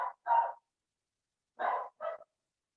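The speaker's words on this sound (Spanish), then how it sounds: "Disculpen si se escucha un perro de fondo." A dog barks in the background of an indoor class, giving four short sharp barks in two quick pairs separated by a silent pause, fairly faint and with no talking.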